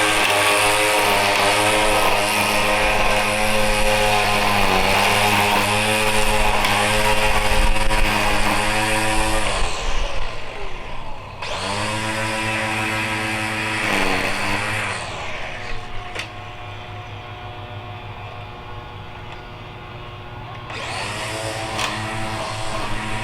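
Battery-powered Black & Decker GrassHog string trimmer whirring steadily at close range, its whine cutting off and restarting a couple of times across the stretch, with no one speaking.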